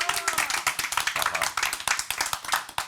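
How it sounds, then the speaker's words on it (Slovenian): Lively applause from a studio audience on a Slovenian weekly talk show, close and crisp with distinct individual claps in a brisk, uneven rhythm. "Dajmo en aplavz še za gospoda Žerjala"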